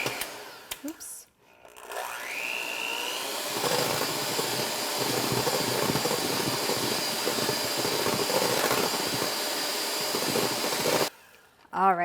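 Electric mixer whipping vegan chocolate mousse, a loud steady whine rising as it spins up and running for several seconds before cutting off, with brief clatter and speech around it.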